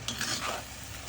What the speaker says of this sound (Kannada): ನಾನು ಚೆನ್ನಾಗಿ ತಿರುಗಿಸ್ಬೇಕು.